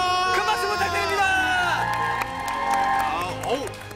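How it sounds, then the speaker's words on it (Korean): Studio audience at a Korean variety show clapping and cheering, with applause and whoops rising under loud overlapping talk and music-like tones. "큰 박수 부탁드립니다."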